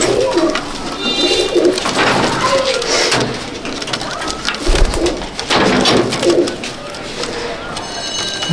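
A Dabwale pigeon, feathers missing from moulting, coos from close by in repeated soft bursts over steady background noise, with a faint voice now and then.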